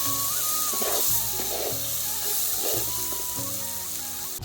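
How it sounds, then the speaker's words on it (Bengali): Fried vegetables sauté in a pan for dal, a steady close sizzle broken by several scraping stirs of a spatula against the metal. "সবজিটা দিয়ে একটু কষিয়ে নেব"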